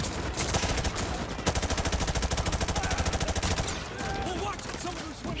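Rapid automatic gunfire in Call of Duty: Modern Warfare 2 Remastered, a loud sustained burst of evenly spaced shots with a few scattered bursts around it and no talk.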